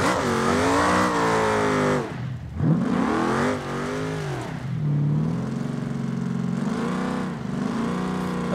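An off-road trophy truck's engine in the driving game BeamNG, revving loudly with rising and falling pitch through repeated acceleration and shifts.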